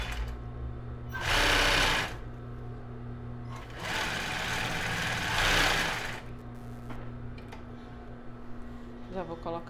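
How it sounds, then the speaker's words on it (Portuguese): Sewing machine stitching a plus-size bra with raw Jaraguá elastic, two loud whirring runs of stitching, a short burst followed by a longer one including a backstitch, with quieter handling and a voice in the gaps. "Comecei a costurar, retrocesso."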